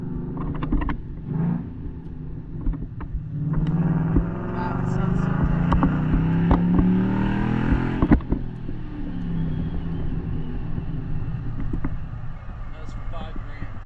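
A car fitted with a 3-inch Flowmaster Outlaw exhaust revving toward 5,000 RPM on a driving test, a deep rumbling drone that rises and swells midway with sharp transients, recorded from inside with a voice talking over parts.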